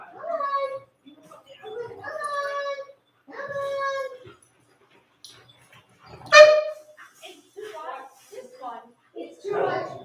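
Puppies at an indoor socialization class give high whimpers and yelping barks in short bursts between pauses, fairly close, while people talk nearby.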